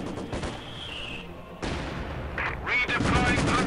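Machine gun and artillery fire in the World War II strategy game Company of Heroes 2, with dense bursts and booms rolling together over a few seconds.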